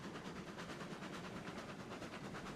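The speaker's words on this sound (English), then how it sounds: "It's not an exceedingly powerful locomotive" A small, not very powerful steam locomotive in the Railroads Online game rolls along with a continuous rumble and a faint rhythmic chuffing pulse, fairly quiet throughout.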